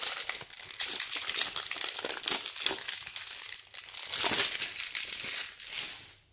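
Plastic packaging on a Yonex Mavis 10 nylon shuttlecock box crinkles and crackles up close as it is cut and pulled open, a continuous rustling with no voices.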